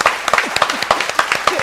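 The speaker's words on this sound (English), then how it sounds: "Let's clap it up, man." Close, fast clapping from a small group, brisk and uneven, mixed with whoops and voices talking over it.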